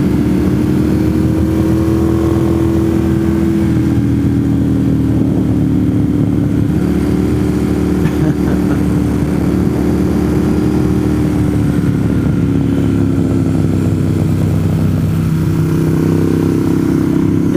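A motorcycle engine drones steadily and loudly throughout a ride, its pitch rising and falling slightly as the rider changes speed, with constant wind rush and no talking.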